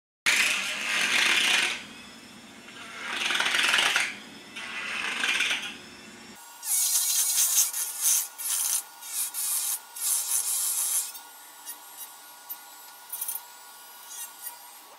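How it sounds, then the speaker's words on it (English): A Dremel rotary tool cuts a hole in PVC for a mannequin prop frame: three loud bursts of high-pitched grinding, then a longer run of rasping, scraping cuts that thin out into brief, quieter bursts near the end. "Now we're going to Dremel out a hole for our arm joint"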